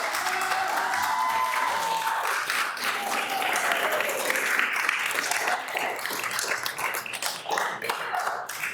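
Attendees at a city council meeting break into sustained applause after an appeal motion passes 5-0, dense clapping lasting the whole stretch with faint voices beneath.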